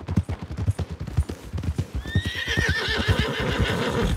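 In the Red Dead Redemption 2 video game, a horse's hooves clip-clop in a steady rhythm nearby, then the horse lets out a loud, wavering neigh that carries over the hoofbeats.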